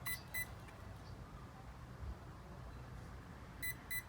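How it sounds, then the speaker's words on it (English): Spektrum Firma 160 ESC emitting short electronic beeps, a pair at the start and another pair near the end, faint and crisp over quiet background hiss. "So now I'm going to press the set button and see if it beeps twice."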